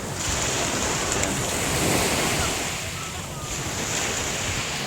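Sea waves and wind at a beach in Nasugbu, Batangas, a loud, steady wash of surf with wind buffeting the microphone, swelling and easing slightly, with no talking.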